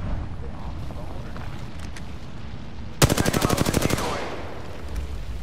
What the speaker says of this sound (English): Oh, shots fired! And they're hitting me.